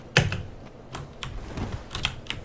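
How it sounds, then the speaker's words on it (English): Computer keyboard and mouse clicking during Dark Souls 3 play: a close, sharp click followed by a scattered run of lighter taps and clicks at uneven intervals. "you can hear my mouse or my keyboard. It's fairly loud."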